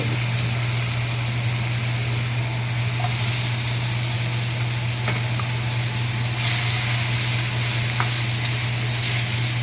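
Cut pumpkin pieces sizzle in hot oil with five-spice and dry red chilli tempering in a kadai, a loud, steady frying hiss with a constant low hum beneath and a few faint clinks.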